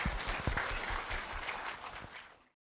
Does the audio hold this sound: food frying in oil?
no